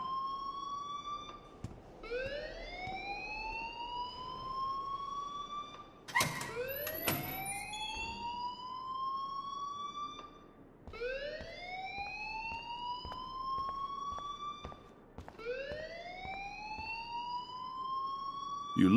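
An alarm rings in the video game Life is Strange as a loud, repeating rising wail, each cycle sweeping upward then holding, several times over, with faint talk underneath.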